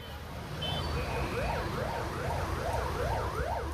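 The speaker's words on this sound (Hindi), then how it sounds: "बगल से सायरन बजाकर गुजरती एम्बुलेंस से भी जैसे इन्हें कोई फर्क नहीं पड़ता।" An ambulance passes a crowded market street in Bengaluru, its wailing siren rising and falling in a steady repeating cycle over busy traffic and crowd noise.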